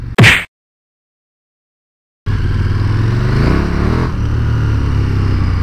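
A KTM 1290 Super Duke R motorcycle engine roars loudly up close after a brief blip and a pause of near silence, holding a steady hard acceleration with rising pitch for several seconds.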